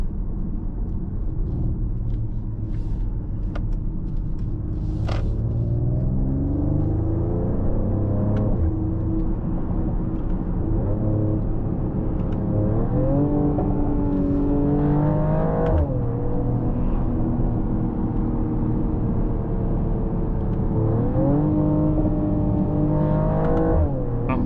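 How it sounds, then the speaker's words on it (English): A 2025 Mercedes-AMG GLE 53 Coupe in Sport Plus mode, engine rumbling continuously as revs climb and fall through several gear changes, with occasional sharp exhaust pops and crackles cutting through the steady drone. "A lot of pops for sure."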